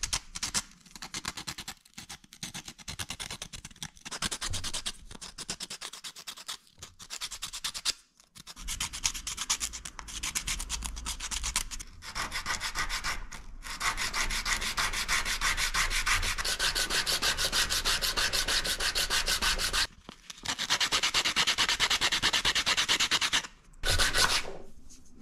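Steady hand sanding of a homemade soft fishing lure body, a close, dense scratchy rubbing that continues with a few brief pauses and no talk.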